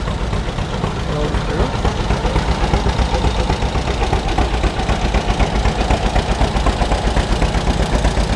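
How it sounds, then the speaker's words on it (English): A John Deere G tractor runs along a small-town summer parade route in Swanville, Minnesota, its engine producing a steady, rhythmic chugging throughout with a dense outdoor background. "Now coming, we've got a John Deere G."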